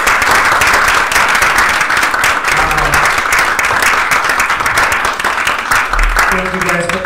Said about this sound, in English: So I want to give a round of applause for our panelists today.